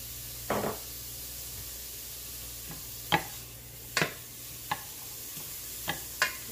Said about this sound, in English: I love the smell of real butter and onions when they start to cook.